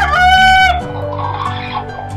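Ornamental chickens at a chicken farm give a loud, harmonic crowing call for about the first second, followed by softer mixed clucking and background farm noise.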